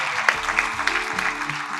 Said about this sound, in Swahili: Tujipigie makofi tafadhali.